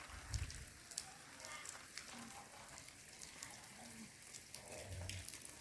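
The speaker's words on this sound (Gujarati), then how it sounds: "વરસાદ બહુ છે" Rain patters and splashes on surfaces nearby, a steady hiss with scattered louder drops and faint low murmurs in the background.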